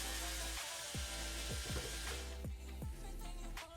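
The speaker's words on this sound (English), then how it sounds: "Next, we'll remove the 8 Phillips screws holding the 2 halves of the outer shell together" A Phillips size 2 screwdriver bit backs out screws from a PlayStation 2's plastic outer shell, giving a series of short, close squeaks and creaks as each screw turns, with quiet gaps between them.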